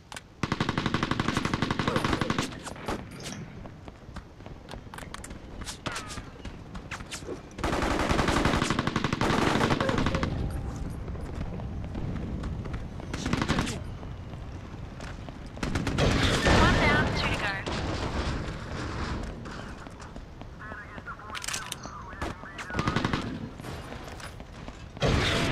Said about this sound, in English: those machine guns could be dangerous